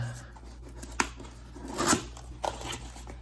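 Paper and cardboard of a bulky mail package torn open by hand, with a few sharp rips and crinkles, the loudest near the middle, over a low steady room hum.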